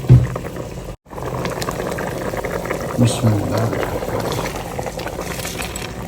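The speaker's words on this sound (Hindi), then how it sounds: "पानी को बॉयल आ चुका है जी।" Water rolls at a boil in a cooking pot while mutton pulao is being made, a steady close bubbling and churning. It breaks off for a moment early on, and a single short spoken word comes near the start.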